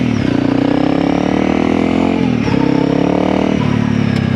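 Honda CRF300L dirt bike with a stage 1 ECU and a sticking throttle roars loud and close, its engine held at a steady high rev with a brief dip and recovery partway through.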